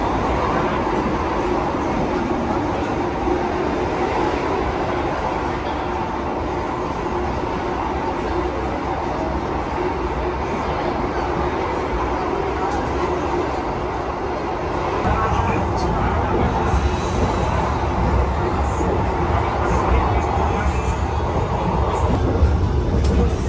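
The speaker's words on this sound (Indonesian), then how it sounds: "Ini kita berjalan langsung di stasiun Klaten. Jadi nggak berhenti nih kereta ini." Steady rumble and rattle from inside a passenger train passing straight through Klaten station without stopping, a continuous broadband roar that grows slightly louder toward the end, with people talking over it.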